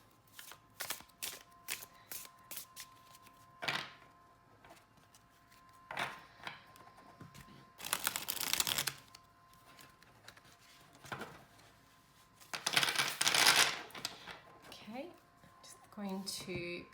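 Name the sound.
shuffling tarot cards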